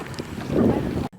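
Strong wind at Zabriskie Point in Death Valley buffets the microphone in a loud, rumbling roar that surges and then drops away suddenly near the end.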